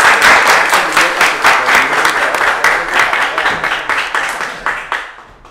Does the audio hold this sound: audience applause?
yes